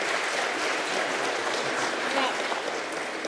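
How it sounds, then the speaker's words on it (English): Applause at a Pacific scholar award ceremony in New Zealand, a dense, loud, continuous round of clapping from the crowd with some voices faintly underneath. "Another round of applause."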